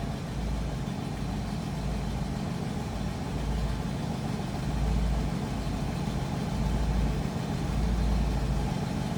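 A 1968 Pontiac LeMans convertible idles steadily, its exhaust giving a low, even rumble that swells slightly midway and holds throughout with no talk.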